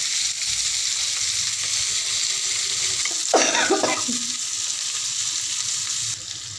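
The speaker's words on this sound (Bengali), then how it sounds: "এখন আমি মাছটা ভুনা করবো। এখন ভেজে নিলাম।" Fish frying in a little oil in a pan, a steady bright sizzle running throughout, with a brief burst of stirring and spatter in the middle before it settles back to an even crackle.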